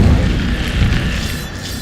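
A fire spell cast in the Hogwarts Legacy video game erupts in a deep, loud whooshing boom that rolls on steadily for a couple of seconds with no voices over it.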